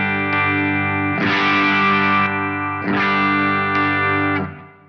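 A clean electric guitar chord pushed through a Wampler Euphoria overdrive pedal rings out twice, each strum sustaining with a warm, slightly driven harmonic tone before fading at the end.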